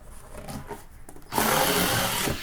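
A Ryobi power cutter slicing through cardboard boxes, starting with a quiet lead-in and then breaking into a loud, steady whirring grind that runs close to the microphone to the end.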